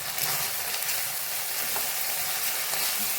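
Spice masala with turmeric, Kashmiri chilli powder and salt fries in a pan for an egg and potato curry, a dense, continuous loud sizzle with faint stirring scrapes underneath.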